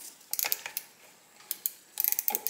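A driver bit works a small screw on the side of a Singer 66 sewing machine, giving quiet ratcheting clicks in short bursts separated by brief pauses.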